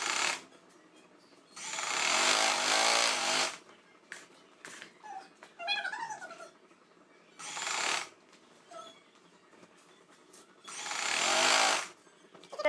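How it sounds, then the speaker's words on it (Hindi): A sewing machine stitches the fitting seams of a baby frock in loud, close bursts of rapid mechanical whirring, three long runs separated by pauses with small clicks and handling noises between them. "अब हम इसकी फिटिंग वाली सिलाई लगा लेते हैं"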